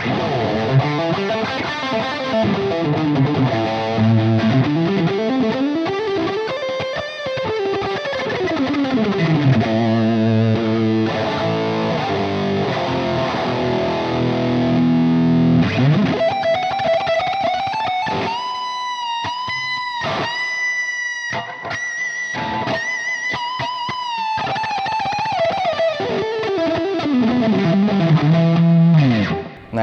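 Heavily distorted Ibanez AZES40 electric guitar plays sliding riffs and sustained chords, gritty and saturated, with a chorus-like shimmer on some notes and no talking.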